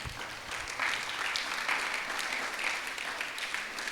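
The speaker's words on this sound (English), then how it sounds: "a big round of applause to the volunteer" Students at a school motivational talk applaud a volunteer, a steady, fairly loud wash of many hands clapping that holds evenly for a few seconds without much variation.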